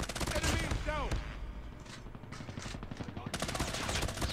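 Rapid automatic gunfire in the mobile shooter Call of Duty Mobile with an M13 rifle, loud bursts of shots at the start and again at the end with brief game sound effects in between, and a player talking over it.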